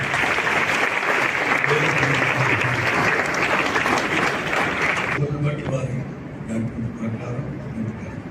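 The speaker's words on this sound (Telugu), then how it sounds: "చప్పట్లు కొడుతూ వారికి" A church congregation applauds in a dense, sustained burst of many hands clapping, loud and continuous, that thins and fades toward the end.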